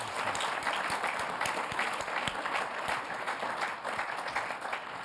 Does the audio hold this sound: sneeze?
no